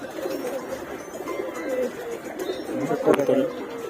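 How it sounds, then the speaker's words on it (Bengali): Soft pigeon coos murmur steadily in the background beneath people chatting nearby, with a brief sharper sound near the end. "ছয়টা কবুতর দিছে মার্শাল্লাহ কবুতর খুব সুন্দর"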